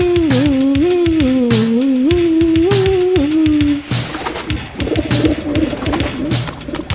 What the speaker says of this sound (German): Diese lästige Taube.